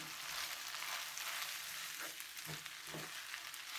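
Rice noodles stir-fry in a pan for a pad see ew style dish, giving a broad, fairly quiet sizzle throughout. Two or three soft scraping stirs rise briefly near the end, and nobody speaks.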